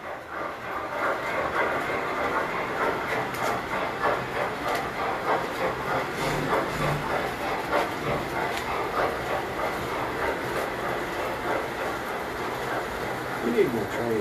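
Tinplate model trains run on a club layout at the Roanoke Valley Model Railroad Club, a continuous rolling rumble with faint rhythmic clicking of wheels over track joints. Low voices are audible in the room.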